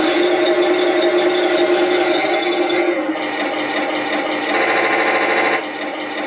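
Small electric motor of a Heng Long 1/16 scale Tiger 1 RC tank turning the turret: a steady, close whirring hum that changes pitch partway through and brightens near the end before easing off.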